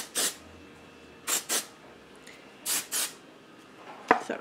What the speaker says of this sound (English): it said spray then scrunch, and then I'm like trying to scrunch as I'm spraying